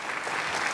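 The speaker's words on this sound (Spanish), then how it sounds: "Les pido un fuerte aplauso," Brief, steady burst of audience applause at an annual scientific conference on metabolic syndrome, as a cardiology speaker is welcomed: dense, even clapping from a large crowd.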